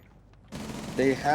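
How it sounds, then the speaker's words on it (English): Rapid bursts of Rainbow Six Siege gunfire crackle at mid distance during an esports tournament match, growing louder toward the end, with a voice talking faintly underneath. "Oh, gunfire is being exchanged from below."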